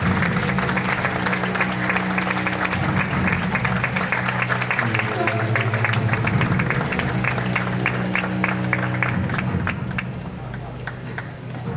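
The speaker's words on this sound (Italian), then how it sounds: "mi fate sentire forte l'applauso per Alessandro con il Berserk!" A crowd at a comics convention in San Marino claps loudly, a sustained round of applause with audible individual claps and some voices mixed in, tapering off near the end.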